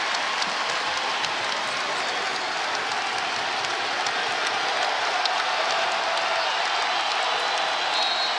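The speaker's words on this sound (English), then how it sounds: "the crowd that continues to come alive each and every Pittsburgh possession down the stretch" At a Pittsburgh vs Iowa college basketball game, the arena crowd cheers in a steady, loud, unbroken roar with applause that holds level for the whole stretch.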